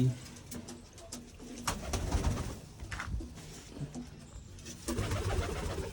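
Pigeons kept in a rural loft coo softly at a distance, their low calls recurring under a faint, cluttered background of rustling and scattered clicks.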